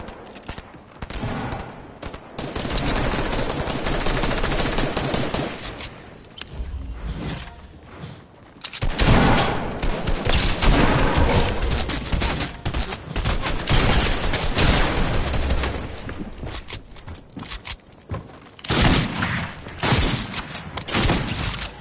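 Dense Fortnite gunfire in a chaotic firefight, loud sustained bursts and rapid volleys with brief pauses between clusters, booming shots overlapping throughout.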